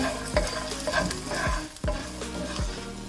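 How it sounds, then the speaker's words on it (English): Peanuts frying in a pan with hing and turmeric for South Indian sevai, a constant close sizzle broken by repeated soft thuds and scrapes of stirring, with no talking. "It's just going to take about a minute for the peanuts to fry up."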